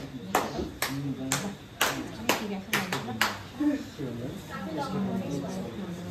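Hands clap sharply several times in an irregular rhythm at a birthday celebration. The claps are close and distinct, with voices talking and a child's speech between and after them.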